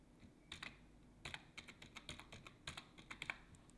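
Computer keys are tapped in quick, uneven bursts while a command is entered, close and fairly quiet, with short pauses between the clicks and no talking.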